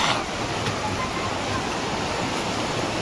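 A waterfall near Sangli gives a steady, dense roar of falling water, unbroken and fairly loud, with no voices over it.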